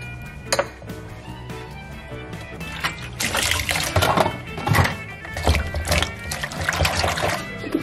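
Water mixed with baking soda and vinegar in a kitchen, clinking dishes followed by pouring, trickling and splashing, close and fairly loud, with brief clatter of utensils.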